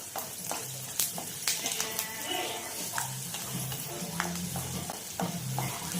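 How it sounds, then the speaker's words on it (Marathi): Peanuts stirred over low heat in a pan until crisp and lightly browned, with spoon or spatula scrapes and a soft dry sizzle repeating steadily throughout, alone without talk. "शेंगदाणे छान असे मंदाचं आपल्याला हलवत हलवत खरपूस होईपर्यंत भाजायचे आहे"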